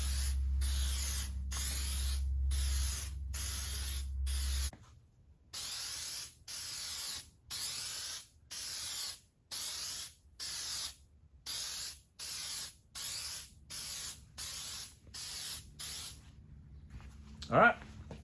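Headlight coating is sprayed onto a restored car headlight in a long run of short aerosol bursts, hissing spurts separated by brief pauses, close and crisp, after an opening stretch with a low hum underneath.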